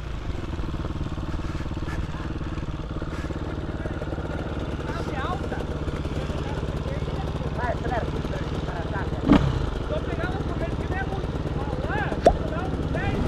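Motorcycle engine on a dirt trail ride near Erval Grande, Rio Grande do Sul, a low steady drone running throughout, with a couple of sharp knocks, while riders talk over it.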